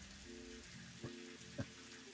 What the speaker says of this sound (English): This rain sounds like